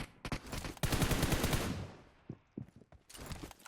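Gunfire in PUBG Mobile, a close, loud automatic burst with dense rapid shots, then scattered single shots and short bursts that trail off and return near the end.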